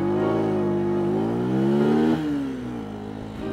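A powerful Porsche sports car sounds from start to finish: a loud, steady engine drone whose pitch rises and falls, easing back after a short peak as it moves away.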